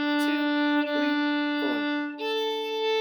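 Steady, sustained bowed string half notes, each held for a long stretch before changing pitch, with small scraping noises at the bow changes.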